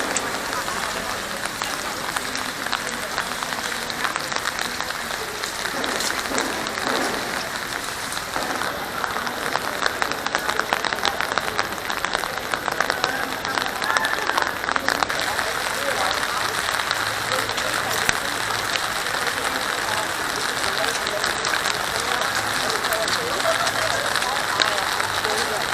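Steady rain patters densely on surfaces aboard the Regent Seven Seas Explorer during an Aegean to Adriatic cruise, a constant hiss of drops throughout with faint voices occasionally underneath.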